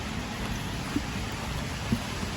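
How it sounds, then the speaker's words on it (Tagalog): Rain falling outdoors, a steady moderate hiss with a couple of faint low knocks in the background and no talk. "Umuulan."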